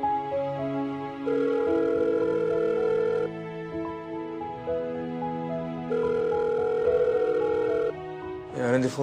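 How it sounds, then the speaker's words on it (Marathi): A telephone rings on and on without being answered, its tonal ring in long repeated bursts with short pauses between them over a quiet room. "आनंदी फोन का नाही उचलत आहे?"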